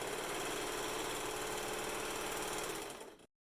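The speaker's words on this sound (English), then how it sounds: "We just have to piece these two together with your serger or sewing machine" A serger or sewing machine runs in one steady, loud burst while joining the belt pieces of a PPE gown, a dense continuous whir that stops abruptly at the end.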